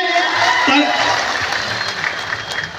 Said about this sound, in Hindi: जोरदार तालियां विधायक महोदय के लिए